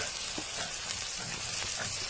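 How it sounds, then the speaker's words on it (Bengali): Onions with turmeric are stirred gently as they fry in a pan, producing a steady, dense sizzle with soft scraping strokes underneath, close and unbroken. "হলুদ একটু হালকা নেড়ে দিচ্ছি"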